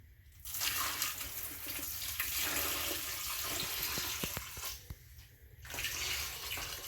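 Brine pours into a snug container of bacon in long, steady splashing gushes, with a short pause before a final pour, close and moderately loud with no speech.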